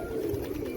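Pigeons coo softly in a brief, low, murmuring call, faint and close by, with light background noise and no speech.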